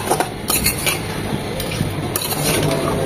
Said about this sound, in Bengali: চিংড়ির সাথে কুমড়াগুলোকেও 2-3 মিনিট কষিয়ে নেব মশলা সমেত